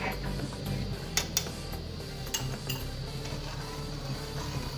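A spoon stirs milk thickening in a pot for homemade kulfa ice cream, tapping and clinking against the metal a few times over a low background hum.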